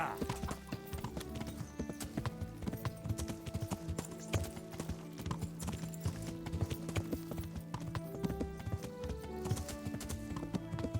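A horse in Kingdom Come Deliverance trots along with steady, rhythmic clip-clop hoofbeats, fairly quiet and continuous, with faint tack jingling and a soft whinny mixed in.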